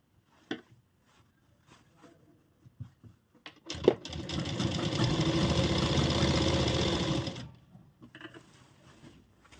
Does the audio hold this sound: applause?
no